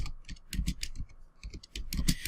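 Keys clatter on a computer keyboard in quick irregular bursts, close and crisp, with short pauses between clusters of keystrokes.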